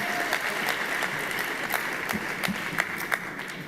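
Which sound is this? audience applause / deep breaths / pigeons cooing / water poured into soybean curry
audience applause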